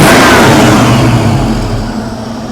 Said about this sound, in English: Let's try a throttle snap.